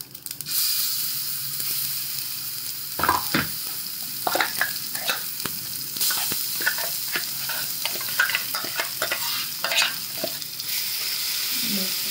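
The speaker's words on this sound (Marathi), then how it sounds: "आता याच्यामध्ये तो वाटलेला ठेचा टाकून द्यायचा।" Crushed ridge gourd chutney paste sizzling in a hot tempering in a pan, a steady loud frying hiss with scraping stirring strokes throughout.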